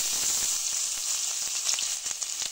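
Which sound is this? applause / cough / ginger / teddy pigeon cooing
ginger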